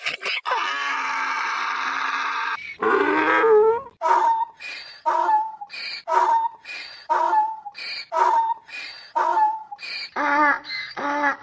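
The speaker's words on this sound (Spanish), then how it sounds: "Burro." A donkey brays loudly and close by: a long drawn-out tone, then a rapid run of rhythmic, alternating hee-haw pulses that repeats about a dozen times.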